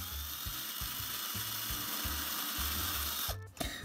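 A drill bit bores into a diecast toy car body, giving a steady whirring motor with rhythmic low pulsing chatter, then stops abruptly near the end, close and moderately quiet with no speech.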